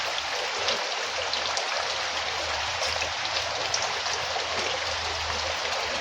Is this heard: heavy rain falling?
yes